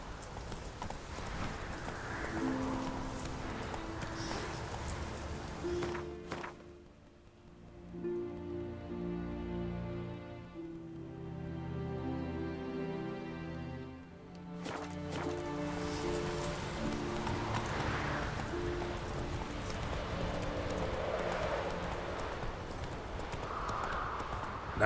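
Roach the horse galloping in The Witcher 3: Wild Hunt on Nintendo Switch, a steady drumming of hooves that briefly thins out mid-way before picking up again, set against a rain-like outdoor wash.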